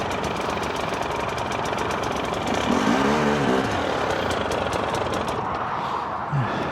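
A GasGas EC300 two-stroke enduro motorcycle idles nearby off-road, its engine giving a steady, rapid, rattling putter that continues without a break, with a slight swell partway through.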